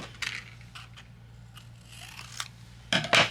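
Scissors trimming the bottom off a paper card-making piece, a handful of sharp separate snips spaced out over a few seconds, with a louder pair of closing cuts at the end, close and isolated.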